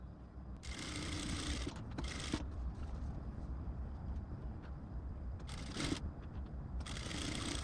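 A sewing machine stitches a princess-cut blouse right along the glued buckram canvas, running in several short bursts of rapid, close mechanical whirring with quiet pauses between them.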